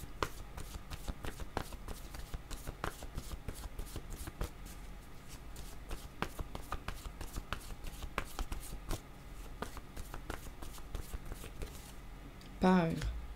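Cards are drawn and shuffled for a card reading, giving a steady run of soft, rapid shuffling taps up close, with a brief sharper rustle near the end.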